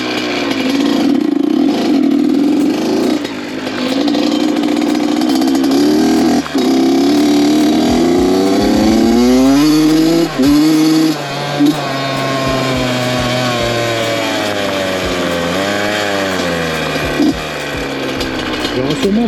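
A Honda CR 82 two-stroke motocross bike revving loudly and continuously on a small forest track, its pitch climbing and falling through repeated throttle blips, the engine close and dominant throughout.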